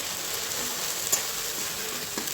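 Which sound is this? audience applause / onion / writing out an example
onion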